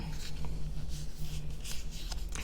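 Pen nib scratching across paper while writing Spencerian script lowercase letters, a close, continuous light scraping with brief stroke accents over a low hum.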